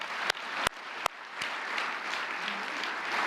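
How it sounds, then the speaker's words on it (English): Audience applause fills a banquet hall at an annual kids' campaign awards dinner: steady, dense clapping throughout, punctuated early by a few sharp, loud individual claps close by. "One last round of applause"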